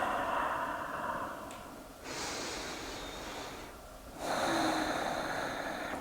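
Slow, audible breaths in and out while holding a seated yoga twist, soft and close, in long steady phases with a brief pause between them.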